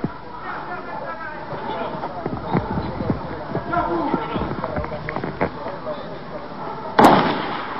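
Rapid gunfire crackles in an irregular string of sharp cracks beneath a person talking, ending with one louder, closer shot, in archive footage of the La Tablada attack.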